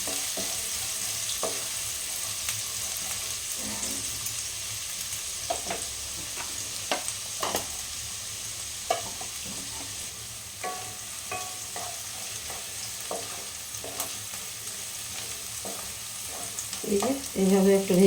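Chopped onion fries in a pan for an egg recipe, a steady sizzle punctuated by frequent scraping clicks of stirring, growing busier toward the end.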